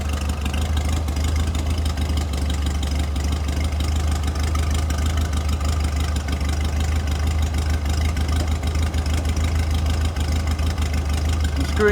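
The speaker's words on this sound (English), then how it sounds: "the engine's picking up a bit more, which means the screw is rich" Porsche 356 Speedster engine idling steadily during carburettor tuning, a constant low throbbing rumble close by, with a faint voice occasionally underneath.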